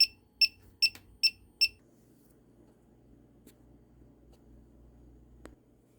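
HVAC refrigerant leak detector emits five short, high-pitched beeps in quick succession, close and clear, followed by a low hum and quiet background.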